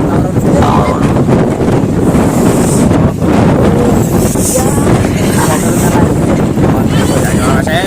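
Loud, cold wind blasts across the microphone throughout at Pavagadh hill, a constant rough roar with faint talking mixed underneath.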